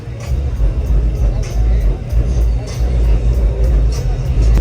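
Car with an LS V8 engine rumbling at a car meet, a deep, loud, close idle throb with periodic swells, under crowd chatter and voices.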